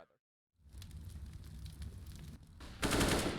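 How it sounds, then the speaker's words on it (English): Rapid automatic gunfire crackles from a Counter-Strike match between SINNERS and Copenhagen Flames in the ESL Challenger League, a dense rattling fusillade after a brief silence, swelling louder near the end. "Shots come through."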